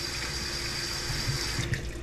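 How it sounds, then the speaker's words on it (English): Hot water runs steadily into a metal filler neck, a continuous even pour with a faint splashy texture, close and alone without any voices. "So it looks like you just fill this up with hot water"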